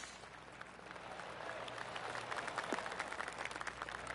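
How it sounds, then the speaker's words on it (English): Polite golf clap from a gallery of spectators in the PGA 2K25 video game at TPC Boston, a faint, soft patter of scattered clapping that swells slightly toward the end. "Oh, golf clap."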